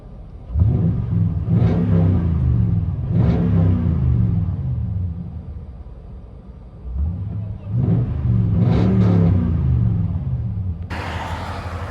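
A 2007 Toyota Tundra with a 5.7-liter V8 and aftermarket exhaust revs four times in close succession, each blip a deep booming rise and fall heard from inside the cab, ending in a brief hiss.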